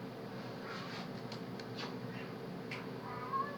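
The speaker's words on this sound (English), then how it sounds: "we have a cat, as you can hear." A house cat lets out one faint, short meow near the end, after a stretch of quiet room noise and a few soft ticks.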